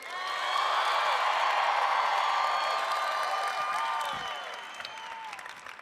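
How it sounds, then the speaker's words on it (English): A large convention-hall crowd at the National FFA Convention gives sustained applause mixed with cheers and high whoops, loud and continuous, then easing slightly toward the end. "Let's give one more round of applause for Braden and Emily."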